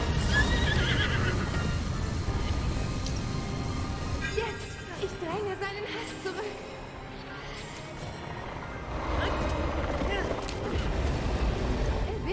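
A horse neighs and whinnies in the Zelda: Breath of the Wild video game, with hoof clip-clops and game sounds under steady commentary voices, the whinny strongest midway through and again near the end.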